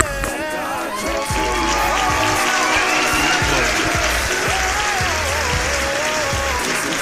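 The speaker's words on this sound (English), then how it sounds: "we are going to give a big round of applause" A crowd at a gospel music event in Oxnard applauds loudly for a performer, with dense clapping mixed with cheers and whoops filling the space continuously from start to finish.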